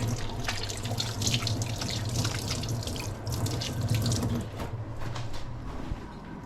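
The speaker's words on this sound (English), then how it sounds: "Just wash my hand quickly." Hands washed under a running kitchen tap, a steady loud rush of water splashing into the sink with faint rubbing and clinks, close by.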